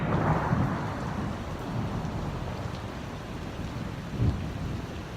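A thunderstorm fills the air with steady heavy rain hissing on surfaces, while low thunder rumbles swell and a brief nearer crack of thunder stands out near the end; no voices are heard.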